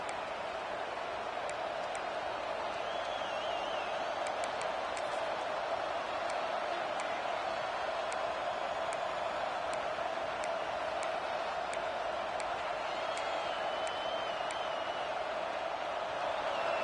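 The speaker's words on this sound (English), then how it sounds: "Here comes the noise, backing this defense on third down." Stadium crowd noise during a college football game on third down, a dense, unbroken roar that holds steady and loud throughout, with faint whistle-like tones above it.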